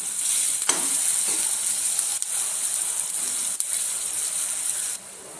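Rajma masala being stirred in a pan, a steady close sizzle and scrape of the gravy running continuously with a few sharper clinks of the spoon, easing slightly quieter near the end.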